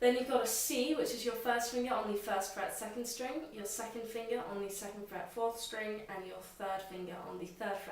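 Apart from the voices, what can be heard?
None of the usual background noises is heard.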